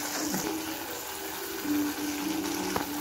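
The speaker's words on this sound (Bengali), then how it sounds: "জল অ্যাড করবো পেঁয়াজটা আর ক্যাপসিকামটা সিদ্ধ হওয়ার জন্য।" Water is poured into a pan of onion and capsicum while making chilli chicken, giving a steady gushing, splashing stream at moderate volume, close by, with no talk.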